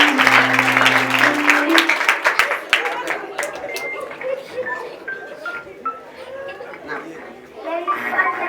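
Audience applause and clapping at a church gathering, a steady wash of many hands with voices and chatter mixed in, loud throughout and tapering slightly before swelling again at the end.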